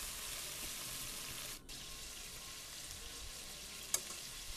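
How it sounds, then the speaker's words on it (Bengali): Diced cubes stir-frying over low to medium heat in a pan for homemade pasta, a soft, even sizzle with a brief dropout and a single faint clink. "আর এখন 3 থেকে 4 মিনিটের মতো একটু নেড়েচেড়ে ভেজে নেব।"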